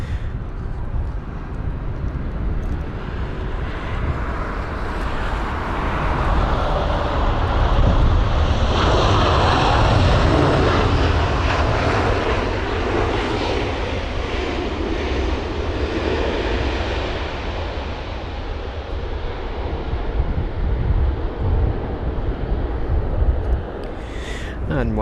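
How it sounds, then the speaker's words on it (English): A LOT Polish Airlines Boeing 737 MAX 8 landing at London Heathrow in windy conditions makes a loud, broad jet roar. The roar builds as the aircraft passes close by, peaks midway and then slowly fades, with some wind noise throughout. "the next arrival, which is very close, I did not realise it's going to be a 737 MAX 8 for Polish Airlines"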